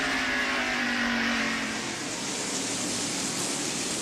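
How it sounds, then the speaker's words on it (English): NASCAR stock cars racing at the 1991 Hanes 500, a continuous loud engine roar from the pack holding steady across the stretch, no voices over it. "Now Brett Bodine pulls alongside and comes close to bumping with Bobby"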